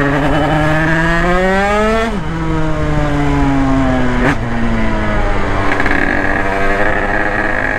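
A motorcycle engine revs hard in urban street riding, climbing in pitch, then shifts and climbs again, loud and close, with no talking.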